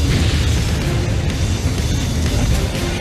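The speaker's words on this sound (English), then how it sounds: "Finally, the tank erupts" A jet dryer's fuel tank explodes in a sustained, roaring blast of broadband noise that stays loud and dense throughout without letting up.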